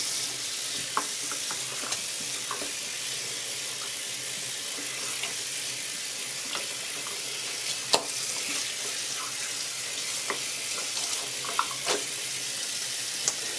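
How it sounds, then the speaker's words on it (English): Hot water running from a bathroom tap to soak a towel for wet shaving, a steady soft hiss of flowing water with scattered small splashes and clicks. "I'm going to take this towel and get it soaked in some nice hot water"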